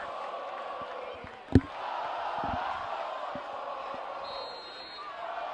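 A big crowd at a high school football game murmurs steadily in the distance, with a sharp thud partway through and faint scattered knocks beneath.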